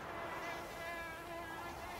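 A mosquito buzzes close by in a Witcher audio drama set in a forest at dusk, a thin, high, continuous whine that holds steady and moderately loud with nothing else over it.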